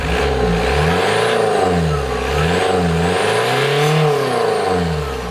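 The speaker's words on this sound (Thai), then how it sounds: "เดี๋ยวเบิ้ลให้ฟังเสียงหน่อยเท่ดีอ่ะ" A Toyota Fortuner 1GD diesel engine fitted in a Hummer H3 revs loudly and up close, the pitch rising and falling in repeated swells over a constant heavy drone.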